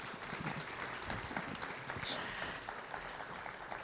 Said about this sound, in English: can I have a round of applause, please, for all our panelists?